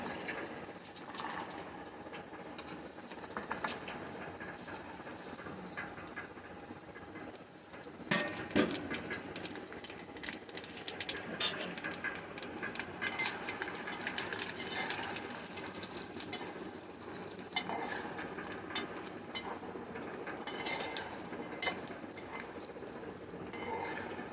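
Dry fruits frying in ghee in a pan while making wheat-flour ladoo, a steady close crackling sizzle with occasional stirring scrapes and clinks throughout.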